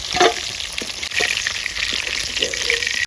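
A fish head fries in hot oil for muri ghonto, giving a close, steady crackling sizzle with a few pops and light movement before cutting off abruptly.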